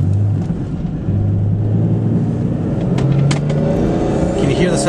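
A 1997 Toyota Supra 3.0L twin turbo with a six-speed manual driving near a wharf, its engine droning loudly inside the cabin and rising and falling as it shifts through the gears.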